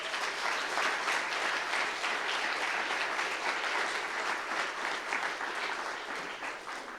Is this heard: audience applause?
yes